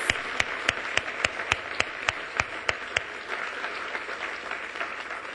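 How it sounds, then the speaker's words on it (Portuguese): A church congregation claps in a steady, evenly spaced rhythm, about a dozen sharp claps that carry over a soft background wash. The clapping then fades into a diffuse patter. "aplauda ao Senhor"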